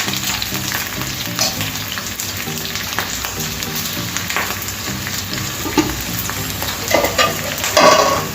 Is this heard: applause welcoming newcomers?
no